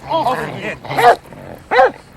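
Dog barking and growling in the film Snatch, three loud close bursts of rough, voiced snarling barks separated by short pauses.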